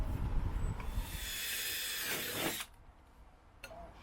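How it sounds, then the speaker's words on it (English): A power drill bores through steel box section under a van loading ramp for a Peugeot J9, a loud grinding whine for about two and a half seconds that stops abruptly, followed by quieter hiss and a faint click. "I've put in that I'm just drilling through the centre, just get it lined up."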